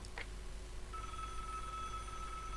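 Telephone ringing in the Broken Sword video game, a steady electronic ring tone that starts after a brief click and holds on, faint over quiet background hiss.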